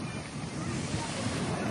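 Sea surf rolling onto Niladri Beach in Puri: a continuous, loud roar of breaking waves with wind buffeting the microphone, no speech.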